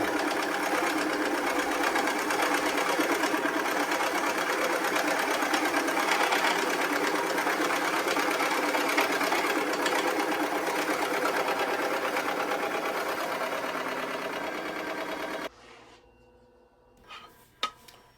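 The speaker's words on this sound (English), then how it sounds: "widened the hole with progressively larger Forstner bits" Forstner bits widening a hole in a wooden bowl, steady loud drilling whine that runs continuously for about fifteen seconds, then stops abruptly, leaving faint clicks and small knocks.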